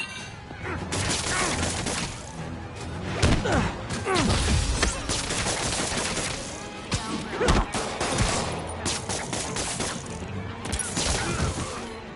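Gunfire in the Spider-Man PS4 video game, dense bursts of rapid shots and clattering impacts with heavy thuds and crashes, loud and continuous with brief lulls between volleys.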